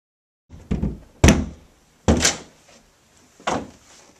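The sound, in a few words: door being broken down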